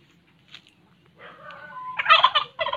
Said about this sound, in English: I'm here at the turkeys